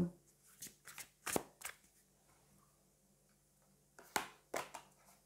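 Tarot cards handled and drawn, two cards pulled from the deck: soft papery flicks and sharp snaps in short clusters, quiet and close, with pauses between.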